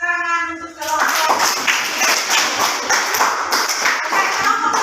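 A classroom group bursts into steady, dense clapping for a team of students after a short stretch of talk, the claps close and continuous for several seconds.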